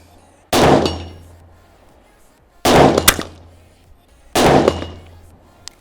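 .22LR rimfire rifle fires three loud, sharp shots at a 500-yard range, each a sudden crack with a short decaying tail, spaced about two seconds apart with quiet between them.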